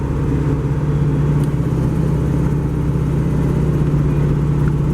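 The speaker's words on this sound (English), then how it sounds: "See if you can hear those injectors." Gen 3 Hemi-swapped car cruising on the road, a steady loud engine drone with a strong low hum and a faint fast ticking from the fuel injectors layered on top, heard from inside the car.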